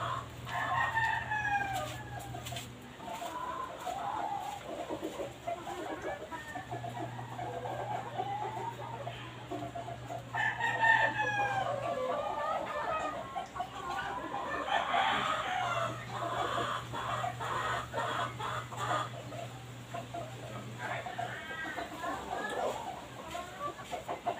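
Fighting cocks in a backyard in Oton, Iloilo crow repeatedly and cluck, several long crows rising above steady clucking and a low hum, with a voice talking faintly in the background.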